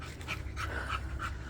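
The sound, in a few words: puppies panting while running around and playing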